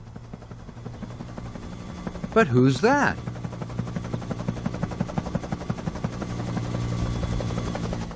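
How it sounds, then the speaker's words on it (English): Cartoon helicopter from Thomas & Friends, flying in with a steady low rotor thrum that runs under the whole clip, while a short spoken line cuts in partway through. "It's Harold the helicopter."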